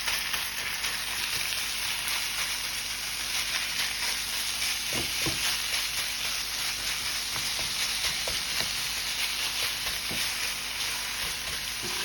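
Ground meat fries with onions in a hot pan, giving a constant loud sizzle and crackle, with occasional scraping knocks as it is stirred and broken up.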